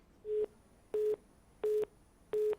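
A telephone busy tone after a call disconnects, four evenly spaced steady beeps of equal length repeating at a regular rhythm, clear and alone.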